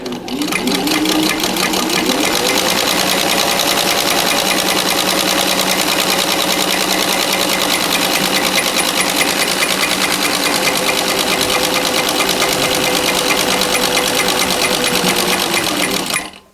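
A Singer 15 sewing machine stitching a buttonhole on a jacket, running as a loud, steady, fast mechanical rattle for about sixteen seconds close by before stopping abruptly, with no talking.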